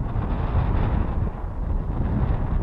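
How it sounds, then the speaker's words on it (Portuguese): Strong, steady wind buffets the microphone at a flying field for aerobatic model airplanes, a loud, dense low roar with no let-up. "Porque tá muito vento, cara."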